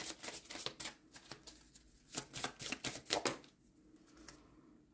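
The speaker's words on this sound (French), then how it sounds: "je vais tirer une carte ici pour voir ce qu'on a" A card drawn from a shuffled deck during a tarot reading, giving close, quiet papery flicks and snaps in a quick burst, then a soft slide and a short pause.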